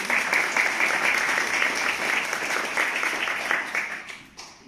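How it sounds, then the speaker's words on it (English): Audience at a writers retreat applauding, a full, steady round of clapping from a roomful of people that holds strong and then fades out toward the end. "That deserves a big clap."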